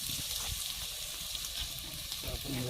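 Onion frying in a pan for a Kolhapuri-style goat leg dish, a steady broadband sizzle and hiss that runs continuously, fairly close, with a few faint scrapes near the end.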